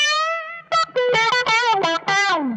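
Harsh, nasal distorted guitar through a Mojo Hand FX Little Wonder pedal on its bandpass setting, narrow honky midrange, playing sliding bent notes in short choppy bursts, loud and up front with no speech.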